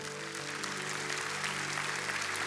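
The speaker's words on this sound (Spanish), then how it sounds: "que le dé un aplauso al Señor." A Spanish-speaking church congregation applauds during a sermon, a steady wash of clapping at moderate distance with a faint sustained tone running underneath.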